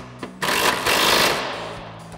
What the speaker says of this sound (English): we grab our 18 mil socket on our impact and tighten this in